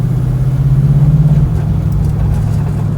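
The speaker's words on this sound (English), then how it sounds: "Sounds so nice. Such a nice exhaust." A 1967 Chevrolet Nova's exhaust while driving down the road, a loud, close, steady low rumble with a slight shift in pitch partway through.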